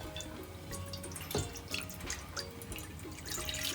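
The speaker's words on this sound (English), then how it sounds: "I'm adding some more milk." Milk poured into a clean pot while cooking Bengali khejur gurer payesh, a steady liquid trickle and splash that runs close and fairly quiet for a few seconds.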